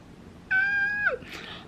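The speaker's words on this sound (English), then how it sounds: "My cat right now is laying on my leg, resting her cute little head on my arm." A cat gives one clear, drawn-out meow close by, a steady tone that bends downward at the end, then a short breathy rustle follows against a quiet room.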